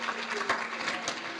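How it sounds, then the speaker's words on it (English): An audience claps in a brief, dense patter of applause at an International Women's Day event, steady and fairly close for just over a second. "Let's give them another round of applause."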